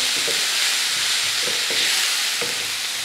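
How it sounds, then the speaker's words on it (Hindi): Ginger garlic paste fries with onions in a hot pan for chicken roll stuffing, a steady close sizzle broken by three or four rhythmic scrapes of a spoon stirring the mixture, with no talking. "अब इसमें हम डाल देंगे अदरक लहसुन का पेस्ट, इसको भी हम अच्छे से फ्राई कर लेंगे प्याजों के साथ ही"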